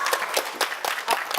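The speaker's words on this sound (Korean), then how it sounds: "오늘 강연하실 박사님을 박수로 크게 환영 한번 해볼까요?" Audience applause welcoming a doctor giving a science lecture on sweet potatoes, a dense burst of many hands clapping close and fairly loud throughout, with brief voices mixed in.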